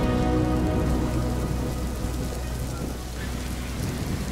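Rain falls steadily in a dense, continuous hiss and patter on surfaces, fairly loud and close for the whole stretch, with a faint low rumble underneath.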